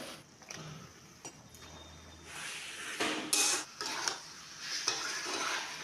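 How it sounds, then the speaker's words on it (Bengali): Chicken sizzles in a pan and is stirred with a utensil. The sizzle is soft and continuous, broken by repeated scraping and clinking strokes against the pan, and no one speaks. "ভালোভাবে চিকেনটাকে কষে নিয়েছি।"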